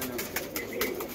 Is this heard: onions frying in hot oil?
no